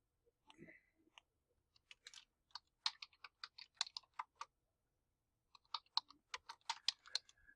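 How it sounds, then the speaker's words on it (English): Bursts of typing on a computer keyboard while searching the web for engraving DXF files, quick clustered clicks with a pause mid-way, close and clear with no talking. "I'm going to just type in here engraving DXF files"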